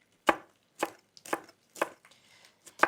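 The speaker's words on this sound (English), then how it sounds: "And then I love the addition of the jalapenos. So finely slice them." A knife finely slicing jalapenos on a cutting board, about six crisp, evenly spaced chops close up, with quiet gaps between them and no speech.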